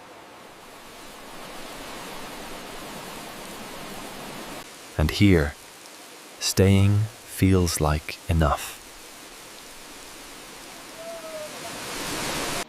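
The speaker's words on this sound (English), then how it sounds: "The sound of rain underfoot reminds you that you're moving gently." A steady soft wash of rain patters continuously on stone in an Alpine village in Switzerland, while a calm voice speaks briefly over it in the middle.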